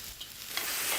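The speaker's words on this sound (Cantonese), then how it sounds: "我哋炒河粉一定要用筷子嚟炒嘅" Beef rice noodles are stir-fried and tossed with chopsticks in a wok over a fierce flame, producing a continuous close sizzling hiss with a few brighter crackles.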